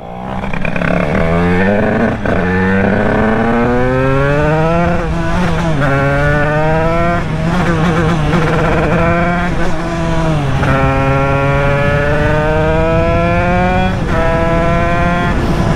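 A tuned Derbi moped two-stroke engine, a 2007 bike built with a 96 Bidalot WR kit, revving loud and close, its buzzing pitch climbing and falling through repeated sustained pulls with no break in the noise.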